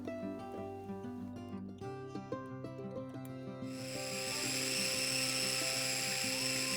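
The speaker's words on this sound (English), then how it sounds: "You can grind this for 2 minutes and when it becomes smooth, you can stop the chopper" An electric chopper grinds garlic and ginger into paste, starting with a whining motor hum with shifting tones and then rising into a louder, steady high-pitched grinding whir for the last few seconds, close and without talk.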